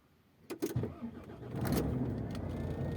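A truck engine cranks with a few sharp bursts, then catches and settles into a steady, close idle rumble that holds to the end.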